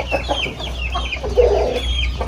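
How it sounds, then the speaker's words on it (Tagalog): Chickens on a Philippine poultry farm cluck in a quick, busy series of short calls, fairly close, over a low steady background hum. "Yung mga manok dito din katambayan, marami dito."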